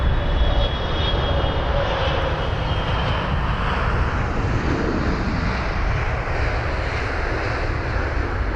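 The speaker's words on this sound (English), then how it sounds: "777-300ER arriving from Tokyo, which is a 14-hour and 6-minute long journey" A Boeing 777-300ER arriving at London Heathrow roars steadily in the distance, a constant broad engine rumble and whine with no talking.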